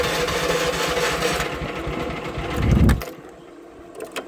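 A small Chinese mini excavator's engine running with a buzzy, rattling drone that swells briefly, then abruptly cuts out at about three seconds, leaving near quiet with a few faint knocks.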